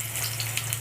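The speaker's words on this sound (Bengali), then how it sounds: "ঝোল ফুটে গেছে" Fish curry of small chara pona fish with potato and pumpkin stems at a boil, giving a brief, steady hissing bubble with no voices.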